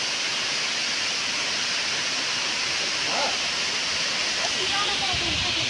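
A roadside waterfall near Paderu, with water pouring onto rocks, makes a continuous even rush of broadband noise that holds at a constant level throughout.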